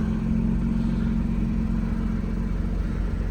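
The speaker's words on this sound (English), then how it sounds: "this is your button for the sport exhaust. It creates a deeper growl." A 2019 Porsche 911 GT3 RS with its sport exhaust engaged gives a loud, steady, deep engine rumble that holds at an even level throughout, with no talking.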